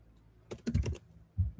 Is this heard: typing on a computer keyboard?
yes